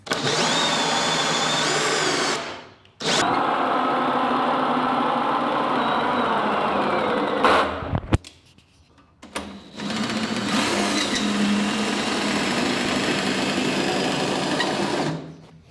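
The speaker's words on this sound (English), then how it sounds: "So now I can just drill to raise and lower, and it's super easy." A power drill whines steadily in long runs, raising and lowering a desk, stopping briefly twice before starting again, loud and close.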